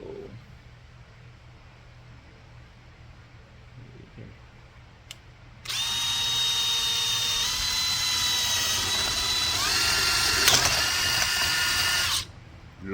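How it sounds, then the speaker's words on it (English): Power drill with a paddle bit bores through plastic for a van air-conditioning block-off, a whining whir starting suddenly and holding steady for about six seconds before cutting off, close by over a quiet room. "I've never drilled through this stuff with a paddle bit before."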